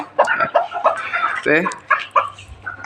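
Young roosters and hens cluck in short bursts at close range, a busy run of clucks and squawks with some faint background noise.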